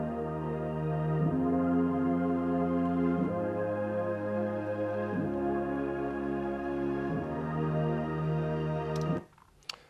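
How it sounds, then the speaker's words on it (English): Soft electronic synth pads in a house music track, holding long chords that shift with gliding bends every couple of seconds, then fading out at the end. "So yeah, that's the sound for the pads."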